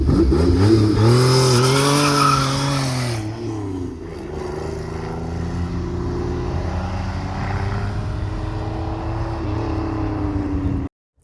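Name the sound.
supercharged 3.8 engine revving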